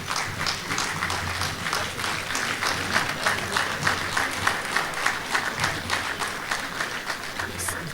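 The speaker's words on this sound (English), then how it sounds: "can we please clap for the military groups?" An audience at a graduation ceremony and annual lecture applauds the military groups, dense sustained clapping from a large crowd at steady loudness throughout, with a faint rhythmic pulse in the patter.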